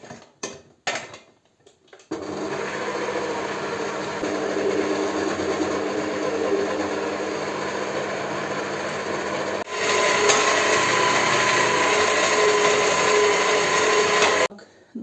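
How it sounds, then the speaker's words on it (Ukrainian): A continuous mechanical grinding hum from a meat grinder mincing raw beets runs steadily for about twelve seconds, loud and close, after a few brief clunks at the start. "Тепер ми пропускаємо ці буряки через м'ясорубку сирів."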